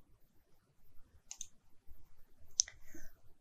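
Two quick computer mouse clicks, close and quiet, sound in RFEM 6 structural software, with faint low background noise in between.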